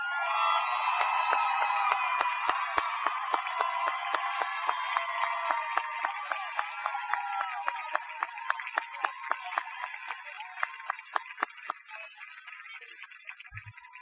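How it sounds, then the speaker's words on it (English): A high school graduation audience applauds for the graduates' parents, a sustained wash of many hands clapping with distinct sharp claps and faint cheering, slowly thinning out toward the end. "Would the parents of the graduates please stand for a very well-deserved round of applause?"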